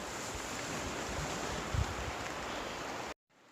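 Fast river water rushes through a rafting hydraulic, a steady broad roar with wind buffeting the microphone, cutting off abruptly at the end.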